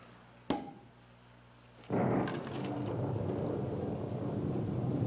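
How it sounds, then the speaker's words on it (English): A sharp crack rings out and fades, then a heavy low rumble rolls in and keeps grumbling steadily, like thunder over falling rain. "It's raining. I thought I heard thunder."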